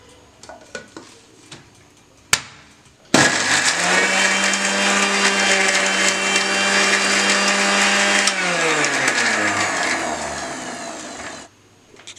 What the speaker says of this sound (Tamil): இப்போ இந்த மூணு இன்க்ரீடியன்ஸையும் ஜாரில் போட்டு அரைக்க போகிறேன்